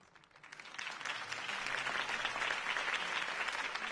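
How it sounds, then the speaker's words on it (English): In-game crowd applause in a PS4 video game breaks out, swelling quickly and holding steady, dense clapping filling the space with no voices over it. "If only Mr. Wayne, my campaign's largest backer, could have heard that applause"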